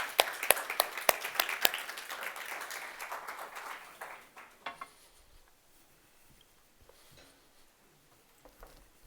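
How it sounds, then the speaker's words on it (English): Audience claps for a speaker coming on stage at a newsroom talk, scattered applause that is brisk at first and then thins out and fades within a few seconds. "Can we have a round of applause for Karen Fleeting?"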